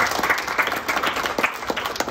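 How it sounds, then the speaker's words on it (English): A group of sixth-grade students and onlookers at a school challenge event give a round of applause, a lively close burst of many hands clapping unevenly. "Let's give her a round of applause."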